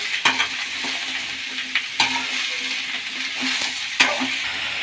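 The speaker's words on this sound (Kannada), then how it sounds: "ಎಣ್ಣೆ ಕಾಯ್ದಿದೆ ಮೂಲಂಗಿ ಹಾಕೊಳ್ಳೋಣ ಇದು ಹಸಿ ವಾಸನೆ ಹೋಗೋ ತನಕ ಉಟ್ಕೊಳ್ಳೋಣ" Radish frying with onion in hot oil while being stirred, a steady sizzle broken by sharp scrapes of the spoon against the pan every couple of seconds, close and alone with no talking.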